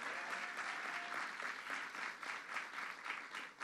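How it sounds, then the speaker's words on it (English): A crowd applauds Melissa DeRosa, New York's first female secretary, at a legislation signing by Governor Cuomo on LGBTQ rights; steady, moderately distant clapping continues evenly, with a brief voice early on. "to give her a round of applause"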